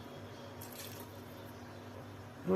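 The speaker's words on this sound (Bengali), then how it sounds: "এখানে পানি দিব হওয়ার জন্য, একটু বেশি করে পানি দিব" Steady running water pouring from a tap into a cooking pot, a continuous wash of splashing noise that holds evenly throughout, with a brief louder bump right at the end.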